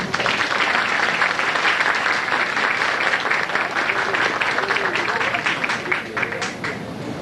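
Sustained audience applause at a candidates' debate for director of a Brazilian technical school, a dense, steady roll of clapping from a large hall that tapers slightly toward the end.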